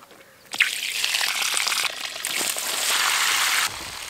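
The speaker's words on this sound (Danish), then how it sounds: "Jeg skal til at tappe vandet ud af den." Water gushes out of a small pool as it is drained, a strong steady rushing flow that starts abruptly, rises slightly, then drops back, close and loud with no talking.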